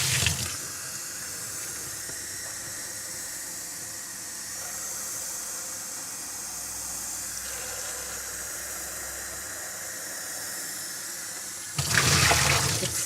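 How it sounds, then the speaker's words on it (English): Tap water running steadily into a sink while a paint bucket is rinsed out, a continuous close hiss that swells louder near the end. "Hold on, I gotta clean out this bucket."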